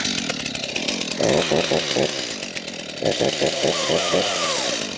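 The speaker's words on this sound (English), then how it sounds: "So I'll let my saw warm up." A chainsaw idles and revs while warming up during a fencing stay-fitting demonstration, a steady close engine drone swelling in a few bursts throughout.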